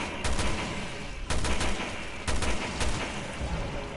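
Gunfire in Resident Evil Revelations 2 during a monster fight, loud repeated shots in a few distinct bursts over dense, rumbling game noise.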